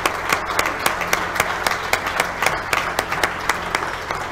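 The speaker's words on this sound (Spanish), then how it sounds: "un aplauso para todos" Audience applause at a recognition ceremony for former foundation patrons, a moderate crowd clapping steadily with distinct individual claps standing out, close and even throughout.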